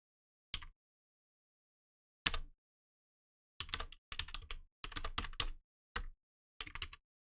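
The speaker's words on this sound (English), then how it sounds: "Probably can hear me typing." Bursts of typing on a computer keyboard, close and fairly quiet, coming in short irregular clusters of keystrokes with silent gaps between them.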